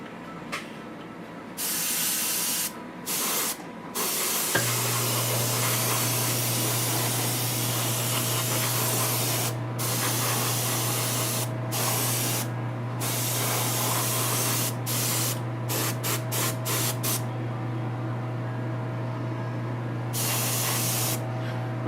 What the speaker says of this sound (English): I'll just put this coat on top of it